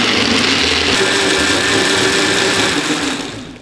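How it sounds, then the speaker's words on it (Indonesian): Kitchen blender at speed 2 whirring through strawberries, lemon slice, syrup, water and ice for juice, a loud steady motor drone that holds constant, then starts to wind down at the end, with no voices. "Kemudian langsung kita blender dengan kecepatan 2 ya."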